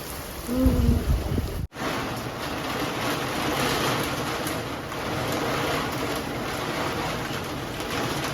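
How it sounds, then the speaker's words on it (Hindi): Heavy rain pours at night in a steady, loud, dense hiss that fills the whole stretch, broken only by a brief dip, with a short soft coo-like call near the start. "बहुत तेज बारिश।"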